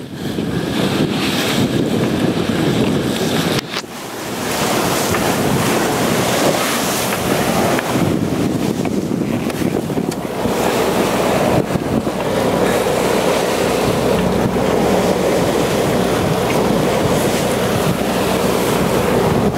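The sailboat SV Morning Dove motoring close hauled at seven knots on an ocean passage to Bermuda, with a continuous loud rush of waves and wind buffeting the microphone throughout.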